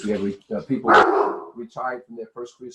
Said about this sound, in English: Sorry about my dogs here.